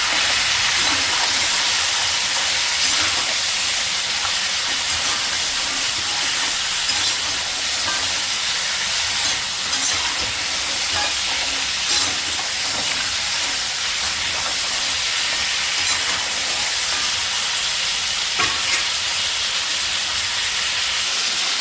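Crabs frying in a pan give a loud, constant hissing sizzle that fills the whole stretch without a break, close and even in level.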